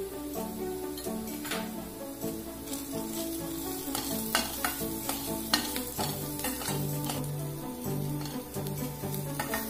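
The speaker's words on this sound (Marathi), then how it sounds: "थोडं परतून घेतलं की त्याच्यात पातोड्या टाकायच्या, छान परतून घ्यायचंय" Patodi tossed with turmeric, chili and spices in a hot pan, sizzling and frying steadily while being stirred, with repeated scraping clicks of the spoon against the pan close by.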